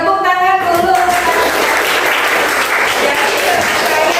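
Applause from a classroom of students fills the room, a dense steady patter of many hands after a brief spoken phrase at the start, continuing loudly to the end.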